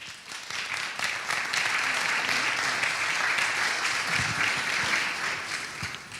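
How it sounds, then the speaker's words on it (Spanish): Applause for a woman presenting diplomas at a workshop graduation event, a full, steady roll of many hands clapping that holds at an even loudness for several seconds before tapering off. "por favor, un aplauso para ella"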